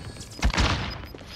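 Grenade detonation in a video game, a single muffled boom with a brief follow-up thump, heard close and fairly short against low background noise.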